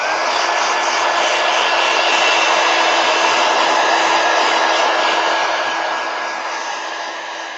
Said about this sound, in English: let me hit it with the heat gun real quick